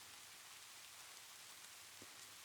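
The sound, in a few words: rain falling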